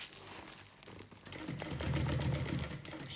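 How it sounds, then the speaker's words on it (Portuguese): A sewing machine stitches along a fabric lunch bag, starting quietly and then running steadily with a continuous buzzing hum through the second half, close up and alone. "Vamos costurar aqui, ó. Ó, vamos costurar"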